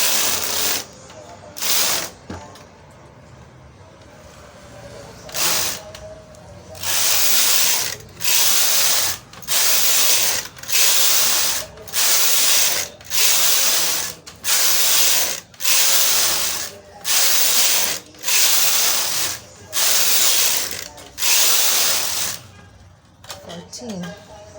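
A domestic knitting machine runs rows for a chunky machine-knitted bucket hat: about a dozen loud, even carriage passes, each a rasping whirr of roughly a second, separated by brief pauses.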